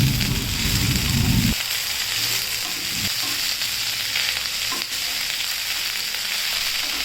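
Moringa leaves fry with roasted spices in a pan, giving a loud, even, steady sizzle with occasional stirring scrapes, heard close and alone.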